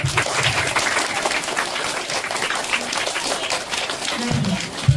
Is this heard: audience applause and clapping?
yes